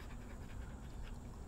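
Two dogs pant and play together outdoors in a yard, with steady breathy panting and low scuffling forming a continuous close, moderately quiet bed of sound.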